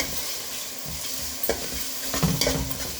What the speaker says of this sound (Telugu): మసాలా అంతా బాగా వేగింది దీంట్లో ఆయిల్లో.